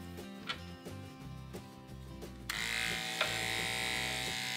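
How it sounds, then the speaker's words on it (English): Electric dog clippers buzz steadily while trimming the underside of a dog's paw during home grooming, a close, continuous motor whine whose pitch and loudness jump partway through as the blade presses into the fur. "Now I'm just gonna take my clippers and touch up the underside of the paw."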